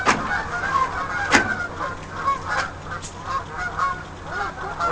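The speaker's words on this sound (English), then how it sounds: "Canadian geese" Canada geese honk repeatedly outdoors, a flock calling in overlapping bursts with one sharp, loud honk standing out, moderately close and without speech.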